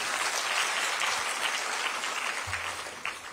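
Audience of newly appointed anganwadi workers at a Dehradun ceremony applauding, a thick, continuous patter of clapping that holds steady and then thins slightly near the end.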